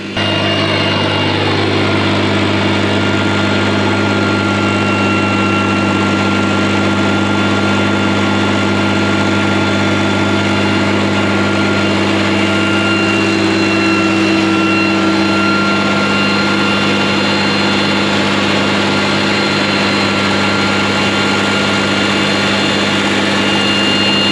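A boat engine hums in a steady, loud drone on a lagoon, continuously with a low, even tone and no voices, running close by.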